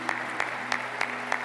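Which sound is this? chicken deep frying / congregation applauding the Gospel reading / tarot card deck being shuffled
congregation applauding the Gospel reading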